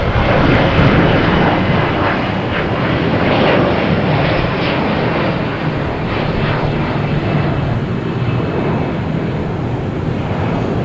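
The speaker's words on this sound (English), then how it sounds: "it might just be the American 777 heading to London Heathrow" A jet airliner's engines, likely an American Airlines Boeing 777 at Boston Logan Airport, give a steady, loud broadband roar throughout, with wind buffeting the microphone.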